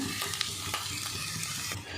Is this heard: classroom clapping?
no